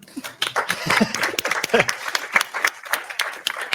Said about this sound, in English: Everyone else was clapping quite loudly there.